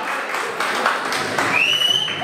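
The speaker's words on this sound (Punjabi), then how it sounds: "ਇੱਕ ਵਾਰੀ ਆਪਣੇ ਲਈ ਜ਼ੋਰਦਾਰ ਤਾੜੀਆਂ ਹੋ ਜਾਣ ਪਲੀਜ਼" Audience at a bhangra dance event clapping in a continuous wash of applause, moderately loud and steady, with a whistle rising near the end.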